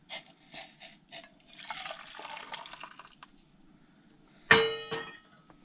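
Boiled water poured from a pot into a cup for tea at a truck campsite, with a steady liquid pour and splashing that builds, then a sharp metallic clang as the vessel is set down, followed by light drips.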